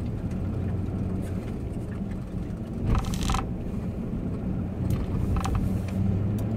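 Car cabin on a snowy Colorado road, with a steady low engine and road rumble throughout, a few brief higher rattles or clunks around the middle, and no talk over it.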